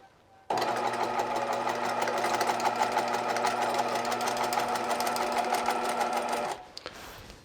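A Bernina 1008 sewing machine stitches fabric with a fast, even mechanical whir that starts abruptly, runs steadily for about six seconds, then stops, leaving a few faint clicks.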